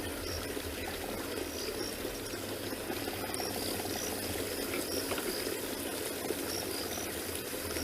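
Running water flows in a steady, continuous trickle and pour outdoors in the bush, with faint insect chirps layered over it and no talk.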